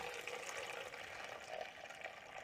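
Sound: hot water filling a stainless steel bucket

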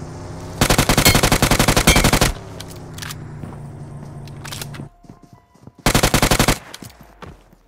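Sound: gunfire in the video game BGMI

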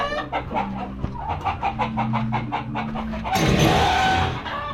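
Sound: darag native chickens clucking

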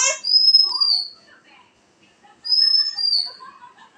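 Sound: bird call

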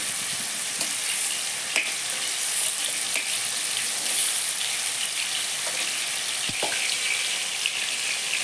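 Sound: frying fish in pan

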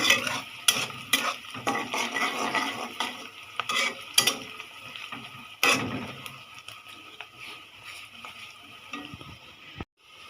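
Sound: bitter gourd frying with dried chillies, stirred in pan

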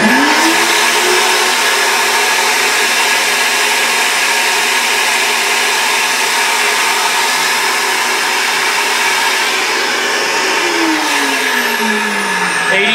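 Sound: cylinder head flow bench running airflow test at 750

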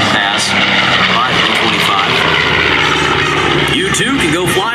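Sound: B-25 Mitchell bomber flying a bomb pass at air show

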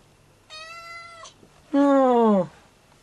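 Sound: cat meowing

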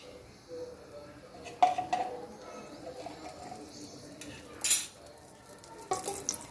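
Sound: ghee heating and stirring in a pan for white sauce pasta

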